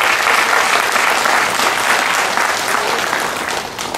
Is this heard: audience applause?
yes